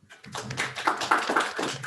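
Scattered applause breaks out among a small seminar audience after a presentation on neural radiance fields, with uneven claps rising and falling over a couple of seconds at moderate loudness.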